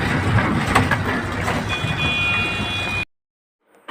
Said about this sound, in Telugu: ట్యాంకర్ ట్రైన్, ఇది ఆయిలో డీజిలో ఏదో తెలియదు